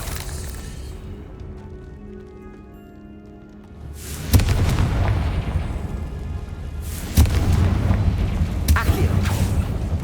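Two heavy booming blasts from the Confringo fire spell in the Hogwarts Legacy video game, the first around the midpoint and a second a few seconds later, each followed by a sustained rumbling roar over a quiet, low ambient opening.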